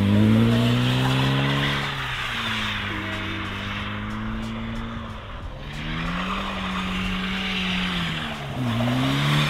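A lightweight car drives on ice, its engine droning loudly and close with revs rising and falling, overlaid with sustained skidding and tire squeal throughout, no talk.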